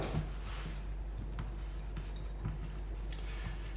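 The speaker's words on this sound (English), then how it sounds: "We're going to give that a mix." Pancake batter is being mixed by hand, wet ingredients into dry, in a bowl: soft, rhythmic clinks and scrapes repeat about twice a second over quiet background hum.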